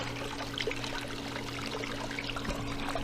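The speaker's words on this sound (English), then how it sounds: "And you can see where it pushes the water out." Water gushing steadily from the outlet of an Intex 2500 GPH pool pump filter into a pop-up backyard pool, a continuous splashing trickle with a low pump hum running underneath.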